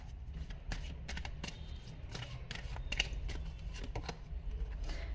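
Tarot cards are shuffled and drawn for a reading, giving a run of soft, crisp riffling and flicking bursts close by, steady over a low background hum with no talk.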